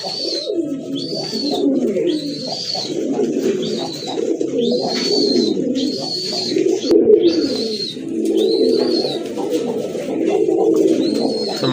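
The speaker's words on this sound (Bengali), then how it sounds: "চমৎকার এক জোড়া কবুতর।" A pair of Kaldom pigeons coo close by in a steady, repeating rhythm of throaty rolling calls, with thin, high bird notes recurring above them.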